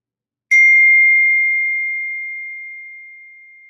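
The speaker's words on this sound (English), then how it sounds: "I'm using those little bells, those little notifications" A small mindfulness bell gives a single clear chime that rings out alone and fades slowly into silence.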